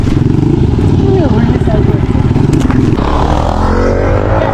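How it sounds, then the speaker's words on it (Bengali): A motorcycle revs loud and close through a wheelie circle stunt, its engine droning steadily with scraping clatter, while people talk over it throughout. "হুইলি সার্কেল চেক করো গাইস, হুইলি সার্কেল চেক"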